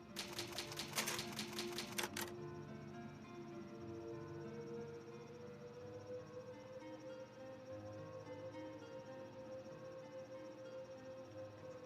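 A typewriter in the Resident Evil Remake HD game clacks out a quick burst of keystrokes for the first two seconds, then gives way to a low, steady ambient hum with no talking.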